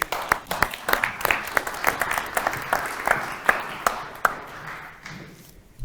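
A small seminar audience claps, sharp individual handclaps overlapping at first, then thinning out and fading away.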